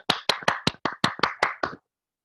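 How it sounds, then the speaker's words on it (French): Clapping in an online Toastmasters club meeting: about nine distinct, crisp claps from a single close source at an even pace, then silence. "Merci Toastmaster Beauville et on l'applaudit"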